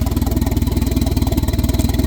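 A 1992 Volvo 460 turbo engine runs close by, idling unevenly with a fast, rhythmic chugging pulse and some clatter, loud and steady over a short stretch.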